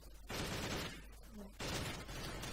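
Gunfire in a first-person shooter video game, two dense loud bursts of rapid shots separated by a brief pause, close and harsh.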